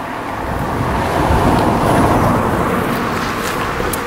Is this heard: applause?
no